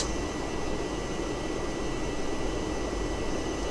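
An Avro Vulcan B.2 jet bomber in a flight simulator gives a steady, loud, broadband engine roar and rushing air that hold level throughout, with no talking.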